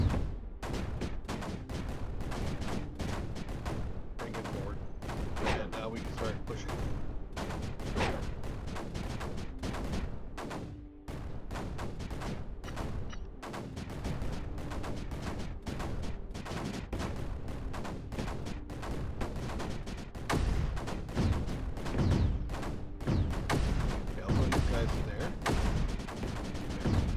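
Corner-mounted cannons firing in the strategy game Creeper World 4, a dense, continuous barrage of sharp popping shots and thuds that runs unbroken for the whole stretch.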